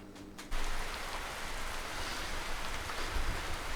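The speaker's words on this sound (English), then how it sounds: "So we're just getting quite a rainy night." Steady rain falls at night on a Portuguese homestead, a dense even hiss of drops hitting surfaces that starts abruptly after a brief quiet moment and continues loud and unbroken.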